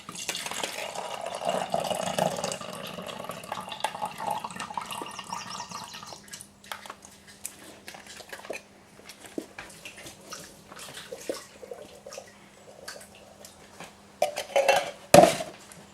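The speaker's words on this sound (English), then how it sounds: "Drain the corn." Corn being drained in a kitchen sink: water rushes and splashes against metal for several seconds, then gives way to scattered clinks and knocks of pots and utensils, closing with one sharp clatter.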